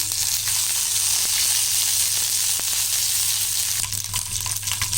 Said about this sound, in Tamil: கடுகு உளுத்தம் பருப்பு போட்டிருக்கேன். இது பொரியட்டும்.